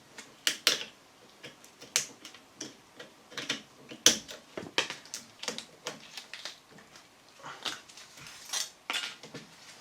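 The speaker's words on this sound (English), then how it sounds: "First thing I need to do is release this old clip and get the old boot off" Small metal clicks and snaps from releasing the old clip on a CV joint boot of an Astra Mk1 (Kadett D), quiet, close and irregular, with scattered taps spread across the clip.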